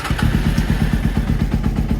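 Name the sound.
Honda CBR600 F3 motorcycle engine running rough, misfiring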